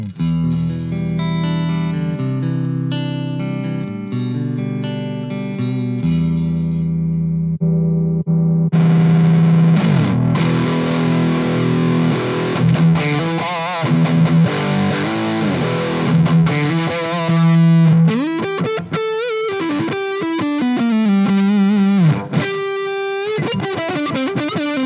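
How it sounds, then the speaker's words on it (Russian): Electric guitar played through a Line 6 Spider V MkII combo amp, moving through factory presets: clean chiming chords give way to heavily distorted, chorus-laden and effects-drenched riffs and sustained bent notes, loud and continuous with no talking. "пресеты покрутим, посмотрим, что у нас тут есть из заводского и как оно все звучит"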